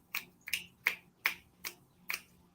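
Six crisp finger snaps ring out in an even, unhurried rhythm, close and clear against near silence, given as coffee-house style applause.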